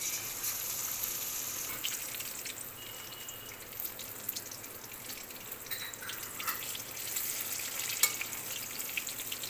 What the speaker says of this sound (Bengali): এই জন্য একটু নুন আর হলুদ দিয়ে এটা ভেজে নিই